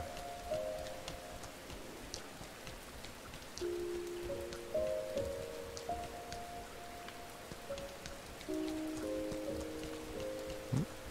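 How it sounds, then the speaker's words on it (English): Soft, continuous rain patters on surfaces in the PlayStation game Rain, faint and steady, while a slow, sparse melody of sustained notes plays over the downpour. "Rain."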